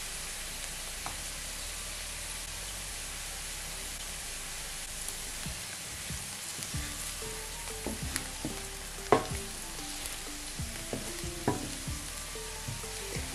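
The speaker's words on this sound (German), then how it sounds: "Ganz kurz anbraten." Turmeric, chili and coriander powder sizzle in a pan with onions for an Indian lentil dal, a steady quiet frying hiss with occasional stirring clicks and scrapes, no voices.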